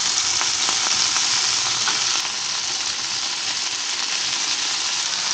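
Food frying in oil in a pan on a tilted cooktop in a parking lot, with a loud, continuous close sizzle and faint stirring clicks, no voices.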